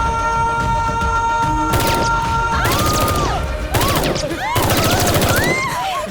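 Rapid bursts of machine gun fire in a terrorist attack scene inside a mall, loud repeated volleys of sharp cracks with crashing impacts, close and dense throughout.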